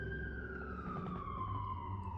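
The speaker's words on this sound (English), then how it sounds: "I'm gonna wait for this ambulance to go by." An ambulance siren passing on a Brooklyn street, a steady loud wail with a slowly falling pitch as it goes by over rumbling traffic, with no talking.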